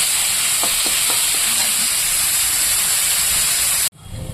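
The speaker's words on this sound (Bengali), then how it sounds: "মূলো ভাজিটা মোটামুটি হয়ে এসছে আর একটু লাল লাল করে ভেজে নেবো" Radish pieces fry with turmeric and salt in a pan, giving a steady, loud sizzle with light stirring taps, and the sizzle cuts off abruptly near the end.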